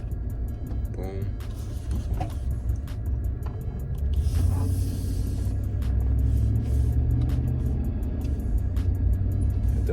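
A Ram pickup truck engine fitted with an upgraded cold air intake rumbles steadily while driving, swelling slightly in the middle as it accelerates, with faint clicks over a constant low road drone.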